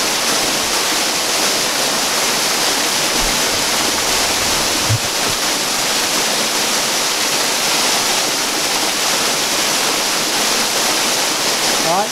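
Steady, full broadband rush of an Arkansas waterfall heard up close, loud and unbroken for the whole stretch with no talking over it.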